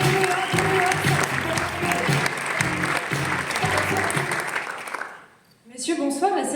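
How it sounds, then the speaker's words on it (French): A large audience applauds at a press conference for Paris Games Week 2025, with dense, steady applause filling most of the span before dipping briefly, then a voice speaks over a reverberant hall. "On peut les applaudir."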